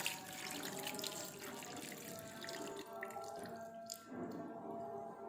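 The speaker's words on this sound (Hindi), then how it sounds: "इसके अंदर हम डालेंगे 2 गिलास पानी" Water poured from glasses into a pot of mutton for aloo mutton shorba, a steady close splashing stream with a brief dip near the end and no talk.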